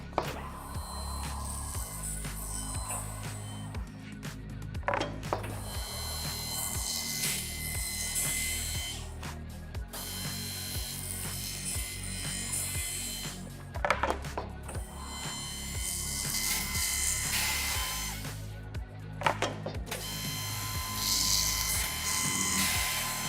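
A drill bores holes in column cabinet panels held in a drilling jig, coming in repeated whining bursts of several seconds each, separated by short pauses and clicks.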